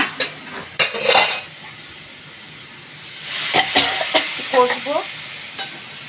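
Cumin, dried chilli, sugar and turmeric for a soybean and potato curry sizzle in a pan while a spoon stirs and scrapes, with faint frying hiss under a few close clinks and scrapes.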